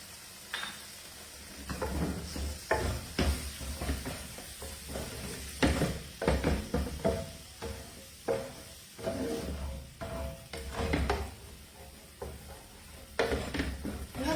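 A marinade mixture being stirred in a pan on a stove, repeated scraping and clinking strokes of a utensil over a soft sizzle, irregular and close.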